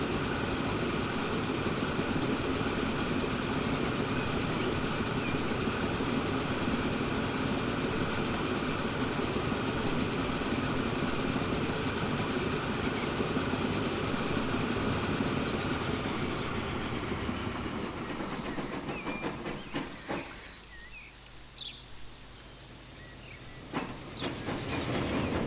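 A train in the Transport Fever 2 game rolls steadily along its rails with a constant, dense rumbling hiss that carries for most of the stretch, then fades off near the end and leaves only faint ambient sound.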